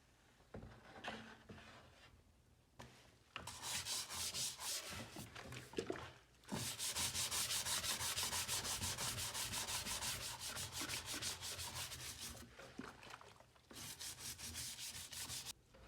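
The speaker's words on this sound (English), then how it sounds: "I'm going to be using this automotive use brush. It's for washing parts, that's what it's made for, so it's going to work a lot better to get all the dirt off" A stiff automotive parts-washing brush scrubs old dirty plastic in long steady bursts of close, brisk rubbing, with a few quieter gaps and light handling knocks between them.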